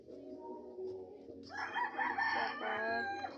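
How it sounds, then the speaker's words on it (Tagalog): A rooster in a backyard flock crows once nearby, a rising then sustained call over a soft background of other fowl, with no talking. "May mga manok."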